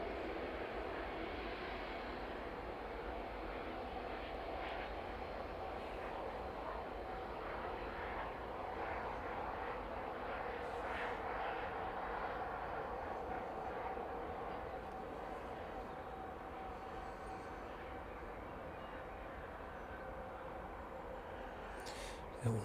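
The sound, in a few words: Ryanair jet taxiing at East Midlands Airport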